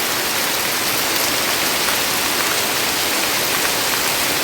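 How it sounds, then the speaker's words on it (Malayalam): Heavy monsoon rain pours down in a dense, loud, unbroken roar of hissing drops on surfaces, steady throughout and with no voices. "അതിഗംഭീര മഴയാ ഇന്നത്തെ ദിവസം."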